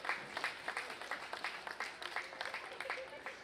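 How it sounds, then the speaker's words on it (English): Scattered audience clapping at a junior gilts hog show, uneven bursts of hands with a faint background murmur of people talking, moderately distant and not very loud. "I think you guys deserve to give yourselves all a big round of applause"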